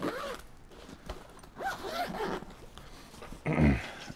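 A zipper is pulled along a pocket on a drone backpack in quick rasping strokes, close and loud, ending in a louder final pull, with no talking.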